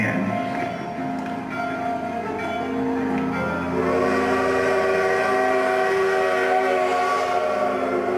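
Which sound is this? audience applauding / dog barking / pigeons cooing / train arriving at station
train arriving at station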